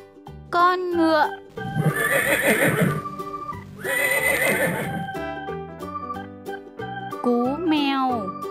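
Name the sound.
horse neighing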